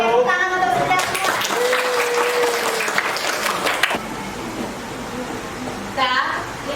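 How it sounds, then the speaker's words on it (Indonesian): Applause from a classroom of students as a lesson wraps up, a dense burst of clapping for several seconds with a teacher's voice talking over it and tapering off afterward. "Tepuk tangan untuk kita semua."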